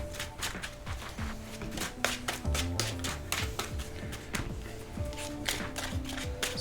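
A Magic: The Gathering card deck being shuffled at a game table, a busy run of crisp riffling and tapping clicks throughout, close and steady, with faint background noise and no clear talk.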